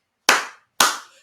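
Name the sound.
hands clapping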